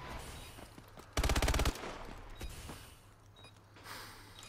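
Call of Duty Advanced Warfare multiplayer gunfire, one short loud burst of rapid automatic shots followed by fainter scattered game sounds and clicks in the background.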